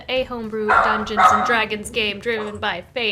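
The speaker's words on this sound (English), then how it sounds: "That's my dog in the background." A dog barks a few times in the background of a homebrew Dungeons and Dragons session, the yaps faint and intermittent beneath someone speaking in the foreground.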